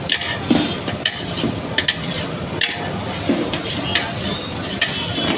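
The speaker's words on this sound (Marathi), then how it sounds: "पूर्ण ब्राऊन होतपर्यंत कांदा परतायचा" Onion sautés in a very large pot for chaap masala, with a dense, loud sizzle throughout, punctuated by repeated metallic clanks and scrapes of stirring.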